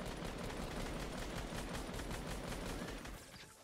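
Rapid automatic gunfire from a video game, loud and continuous with dense overlapping bursts throughout, easing slightly in the final moment.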